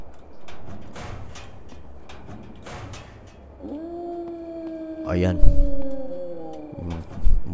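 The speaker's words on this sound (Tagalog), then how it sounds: "Mga alulong na yun. Yung mga asong ulul." Rabid dogs in the survival video game HumanitZ let out a long, sustained howl that bends slightly in pitch and lasts a few seconds, over game noise and thumps, with a player talking just before.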